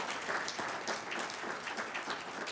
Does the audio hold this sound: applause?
yes